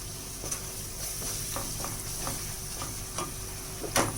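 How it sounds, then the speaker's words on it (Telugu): Tomato rice masala frying in oil crackles in a steady soft sizzle, punctuated by regular light stirring taps against the pan, close up with no speech. "10 నిమిషాలు వేగనిద్దామండి."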